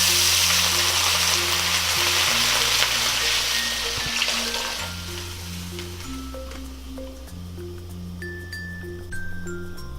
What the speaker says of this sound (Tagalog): Ngayon po ay maglalagay lang po ako ng tubig.